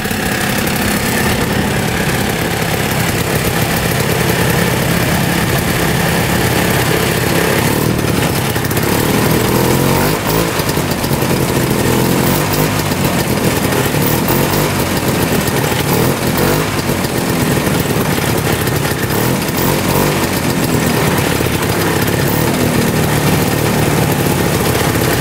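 The engine of a 1960s snowmobile runs loud and close, its clutch grabbing while the track does not spin, giving a continuous raspy two-stroke-like drone with slight revving changes throughout and no talking.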